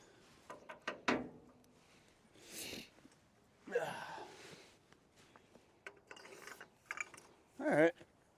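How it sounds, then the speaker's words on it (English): A ratchet cranks on a 1979 Dodge W150 Roundup that has sat for over 15 years, giving scattered clicks and metallic creaks with a few louder strained pulls and rattles, close and fairly quiet with pauses between efforts. "Why don't I put the ratchet up above?"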